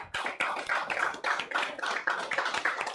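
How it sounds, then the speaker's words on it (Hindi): A room of students in a lecture hall claps hands together in a steady, continuous round of applause, fairly close and loud throughout. "2 मिनट समोसा बाजू में रख के तालियां बजाओ पहले"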